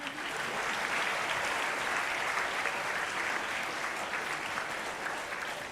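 Student council investiture audience at a school breaks into applause, a dense, even wash of clapping from a crowded hall lasting several seconds without voices.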